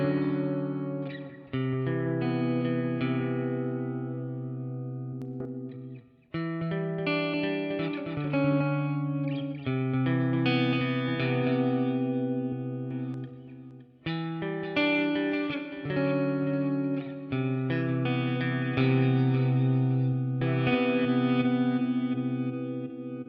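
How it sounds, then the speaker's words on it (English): An electric guitar plays through the analog delay of a Flatsons KMF-1 multi-effects unit, sustained chords and picked notes trailing into echoing repeats, steady and alone with no talk. "Let's get into delay. Analog delay."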